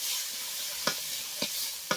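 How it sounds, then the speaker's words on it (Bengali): Oil sizzles softly as onions and green chillies fry, under three scraping stirs of a spatula in a pan, spaced about half a second apart. "এটা আমি এখন একটু ভাজা ভাজা করে নেবো"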